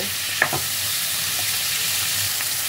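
Vegetables stir-fry over high heat in a pan for chilli prawn, a steady loud sizzle with a brief clatter of stirring near the start and no talking.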